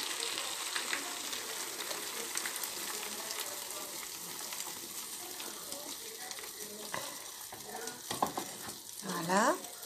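Potato and egg omelette frying in a pan, a steady close sizzle with occasional stirring scrapes throughout, a brief louder clatter near the end.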